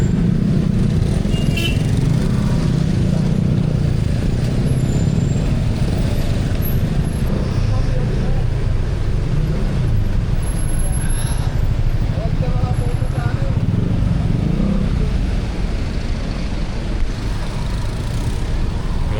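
Heavy rush-hour traffic on a congested Manila road near Green Hills and EDSA, heard from a bicycle: a dense, continuous roar of cars, trucks and buses with low engine rumble and an occasional air-brake hiss, with a voice speaking over it.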